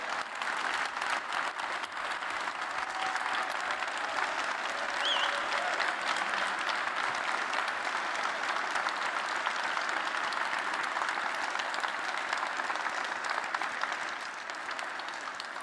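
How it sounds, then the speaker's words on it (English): Sustained applause from a large conference crowd at a tech keynote in Berlin, a steady even wash of clapping that holds for over fifteen seconds before easing slightly at the end. "Let's give them a big round of applause."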